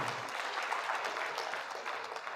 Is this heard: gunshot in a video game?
no